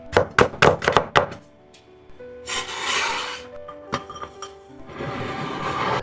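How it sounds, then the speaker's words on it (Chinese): A knife cuts green beans into thin strips on a board: a quick run of sharp, close chops, then two longer rasping scraping passes separated by a few softer taps and knocks. "接着將四季豆切成細絲備用"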